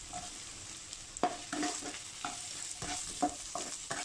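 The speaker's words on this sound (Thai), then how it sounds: "เอากุนเชียงลงมาผัด" Chinese sausage being stir-fried with garlic and ginger in a pan over low heat, a soft steady sizzle broken by scraping and clinking stirs of the spatula at irregular intervals, close and fairly quiet.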